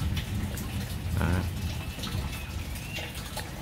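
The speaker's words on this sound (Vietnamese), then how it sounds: "Trời mưa nó tạt cái ướt cái sàn của mình luôn. Mưa lớn, nãy mưa lớn lắm các bạn." Heavy rain pours down on a rainy, windy day, a steady dense hiss of falling water splashing close by, with no talk.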